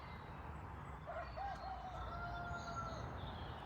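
Faint, distant cockerels crow on a UK allotment, one drawn-out call rising and falling under a steady outdoor hiss, with a few chirps from other birds nearby.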